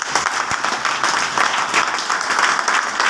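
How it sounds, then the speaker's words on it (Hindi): A crowd at a training seminar claps together in sustained, dense applause that holds steady for a few seconds. "सबके लिए एक बार दिल खोल के ताली दो"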